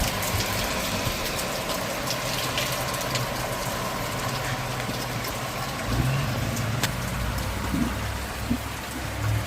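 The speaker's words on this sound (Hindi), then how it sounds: "और ये बारिश देखें कितनी तेज़ हो रही है।" Heavy thunderstorm rain pours down in a steady, dense wash, with a low traffic or engine rumble underneath and occasional splashing patters.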